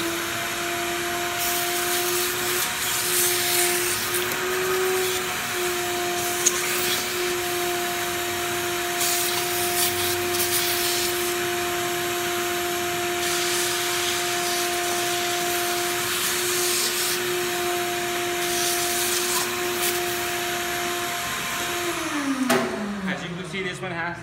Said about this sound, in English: Sometimes there's dirt in it, so give it a little vacuum.